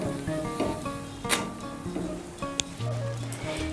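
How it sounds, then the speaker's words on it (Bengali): Pieces of semolina, flour and yogurt batter frying in oil, a soft steady sizzle with a few clinks and scrapes of a utensil against the pan, close and fairly quiet. "এইভাবে আমি সবগুলো ভেজে নেব"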